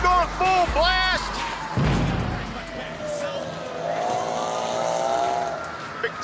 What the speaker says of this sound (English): Spinning their tires, music going full blast.